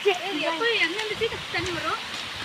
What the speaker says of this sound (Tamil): எல்லா பக்கமும் தண்ணி வருதுப்பா